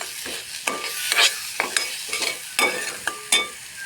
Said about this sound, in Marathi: आणि हलवणार.